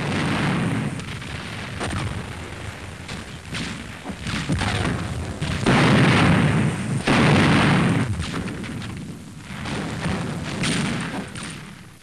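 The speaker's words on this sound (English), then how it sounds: "There's one barge load being destroyed." A barge load under attack in Ormoc Bay during the Leyte fighting, heavy gunfire and booming explosions rolling continuously in dense, loud bursts with a rumbling wartime battle backdrop.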